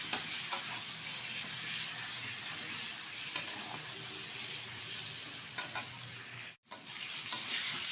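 Cut potatoes and tomatoes fry in oil in a pan for a rohu fish curry, a loud continuous sizzle with occasional clinks of a stirring spoon and a brief silent break.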